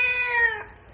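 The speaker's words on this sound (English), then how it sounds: "I was sure I heard a cat squalling under that warehouse." A single close, clear meow from a cat hiding under a warehouse, loud and falling away at the end.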